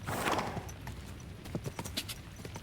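Horse hooves clip-clop in Kingdom Come: Deliverance II, a steady trotting rhythm of soft thuds heard fairly close at moderate volume with faint game ambience and no talking.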